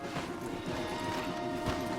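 Horses in Red Dead Redemption 2 moving on a trail, steady muffled hoof clops and shuffling over a dense outdoor ambience, fairly close, with no talking.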